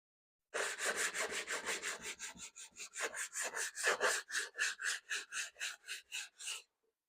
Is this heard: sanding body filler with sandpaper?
yes